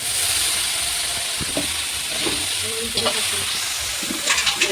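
Chopped banana stem (thor) frying in hot oil in a pan, with a steady close sizzle, occasional stirring scrapes and a louder burst near the end.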